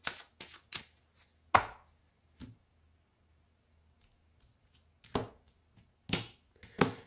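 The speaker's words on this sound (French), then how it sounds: "je vais faire une coupe avec mon tarot" Sharp, sparse slaps and snaps of a tarot deck being cut and tapped down on a table, arriving in short clusters with long quiet gaps between, close and fairly crisp.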